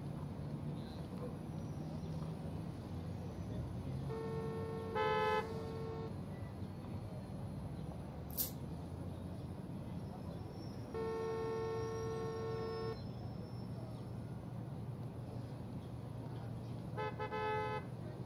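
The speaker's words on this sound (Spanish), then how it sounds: "¿Por qué tocan bocina?" Car horns in the video game Parking Tycoon: Business Simulator honk in sustained blasts, one long honk then a second long one and a shorter burst, over a low background hum.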